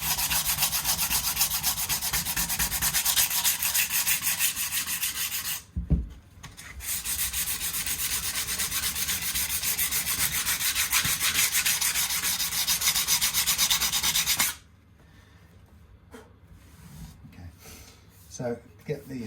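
Steady abrasive rubbing of sandpaper clearing old glue off the wood of a 1985 made-in-Japan Fender Telecaster body, loud and continuous with a brief pause near six seconds, then stopping into quieter scattered handling sounds.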